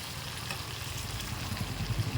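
Chicken curry with garam masala frying in a pan, a soft, steady sizzle heard close and alone at low volume.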